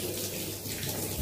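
Tap water runs steadily from a faucet into a basin while hands are wetted at the start of a hand-washing routine, a continuous close splashing hiss with no talking.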